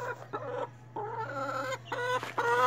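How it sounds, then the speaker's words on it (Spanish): A four-week-old chick clucks in a series of bright, close calls with short pauses between them, over a steady low hum. "Miren, allá se mira el pollito. Está muy hermoso."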